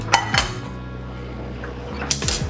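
Monkfish is scraped from a hot pan on the hob into a serving dish, with a few quick metallic clinks and scrapes of utensil against pan over a low background hum, close and brief.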